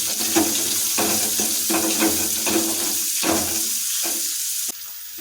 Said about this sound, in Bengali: পেঁয়াজ নিয়ে করছি এটা ভালোভাবে দিয়ে নাড়িয়ে নিচ্ছি